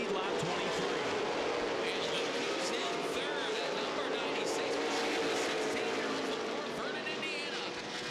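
Late model sportsman race cars roar side by side down the backstretch at Lucas Oil Raceway Indianapolis during the CRA Fall Brawl 40, a continuous loud engine drone under a commentator's voice.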